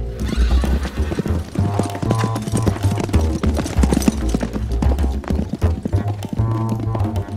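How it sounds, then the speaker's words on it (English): A horse being returned to a stud farm, with steady clip-clop of hooves and a whinny amid a busy, dense mix of sound throughout. "Eliot, bring the horse back to the stud farm"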